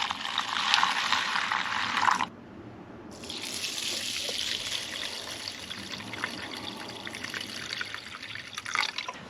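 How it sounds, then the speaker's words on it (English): Water from a tap pours steadily into a donabe ceramic rice pot and then an electric rice cooker at a camping setup, a close, loud rush that stops for a second and resumes, trickling and splashing, with no talking. "I'm going to go ahead and add the water to the donabe ceramic rice pot, and also the electric rice cooker."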